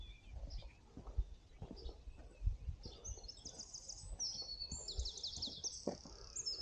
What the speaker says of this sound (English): Just hear the birds.